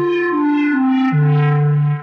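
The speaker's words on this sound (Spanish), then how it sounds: "les voy a enseñar cómo hacer un lead bastante épico, muy interesante, que se puede usar para trance" Epic techno lead synth patch built in Vital, a bright sustained tone that steps down through a few held notes in a short melodic phrase, loud and up front with no other sounds.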